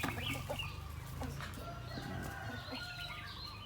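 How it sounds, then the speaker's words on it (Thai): Kai Kum, rumpless native Thai chickens with no tails, cluck softly and chatter in a farm setting. Short calls overlap steadily at a modest distance, with no talk. "ไก่กุ้ม ไก่พวกนี้จะไม่มี จะไม่มีหางนะ"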